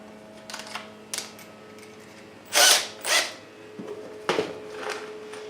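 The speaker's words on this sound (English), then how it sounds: "Grab my trusty drill," A power drill drives fasteners to attach 4x4 lumber to the back of a cabinet for structural support, heard as several short, close whirring bursts of varying length separated by pauses with faint clatter, no voices.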